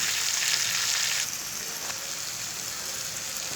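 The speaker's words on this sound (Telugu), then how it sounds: "ఆనపకాయ ముక్కలు కూడా వేసుకొని బాగా వేగనండి" Steady, close sizzling of bottle gourd pieces frying in hot oil, a dense crackling hiss that continues throughout, a little louder at the start, with no voices.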